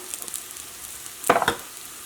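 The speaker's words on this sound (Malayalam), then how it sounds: "ഈ മഞ്ഞൾപ്പൊടി ഇതിനകത്ത് കിടന്നിട്ട് നന്നായിട്ട് മുരിയട്ടെ" Turmeric powder frying in oil in a pan for pepper chicken curry, a soft continuous sizzle with a brief louder burst of stirring and scraping near the end, close and alone.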